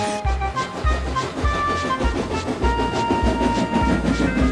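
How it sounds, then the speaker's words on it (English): A special train pulled by a steam engine runs along the rails with a steady, rhythmic clatter of wheels, heavy low rumbling beats and some ringing tonal sounds over it, loud and continuous. "They were sparkling when Thomas arrived with a special train."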